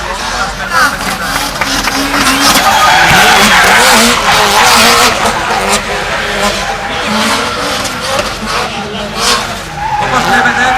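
Drift cars skidding at speed in a 2008 drift event, a dense, loud and continuous wash of tire squeal and engine noise with voices mixed in under it.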